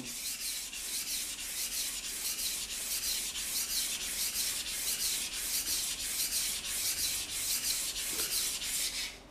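Steady back-and-forth strokes of a kitchen knife across a wet Japanese water stone, the rasping scrape repeating in an even, close rhythm with no pauses.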